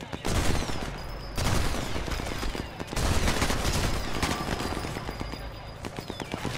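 Sustained automatic gunfire in Sniper Elite 4 during an attack on a town, dense rapid volleys of shots with brief lulls between bursts, loud and close throughout.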